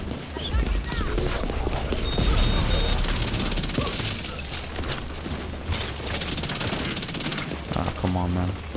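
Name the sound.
Chatterbox SMG gunfire in video game The Division 2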